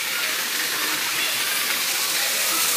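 Water pours steadily from a spout in a forest park at Clube Águas Finas in Pernambuco, a close, constant broadband rush with no break.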